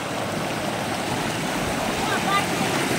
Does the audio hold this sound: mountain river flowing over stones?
yes